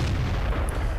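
A tank cannon fires during a World of Tanks battle, a single deep, heavy boom that fills the moment with low rumble.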